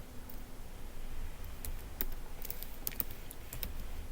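Someone types a PS command for Linux on a computer keyboard, producing a short run of faint, scattered key clicks over a quiet background hiss.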